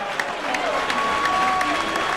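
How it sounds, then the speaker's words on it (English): Clapping and crowd noise for boxers after the final round of a fight night, moderate applause spread through a crowd. "I'm clapping for these guys."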